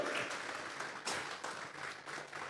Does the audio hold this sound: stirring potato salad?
no